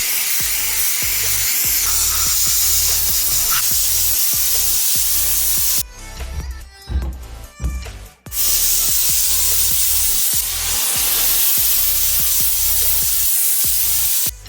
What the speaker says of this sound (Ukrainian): вирішила зробити це за допомогою пари пароочисника